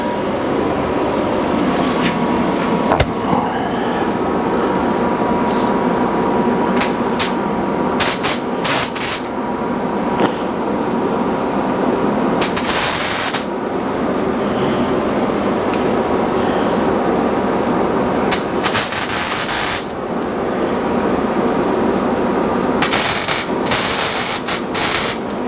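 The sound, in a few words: welding spots onto a bipod, then grinding it down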